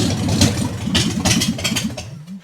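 A Jeep CJ7's 258 engine, an old vehicle of uncertain condition being tested to see if it runs, idles close by with a steady, rhythmic low chugging pulse and no talk over it.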